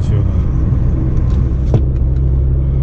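A car cruising along a road at about 70 km/h, a steady close low rumble of engine and tyres with a brief thump partway through.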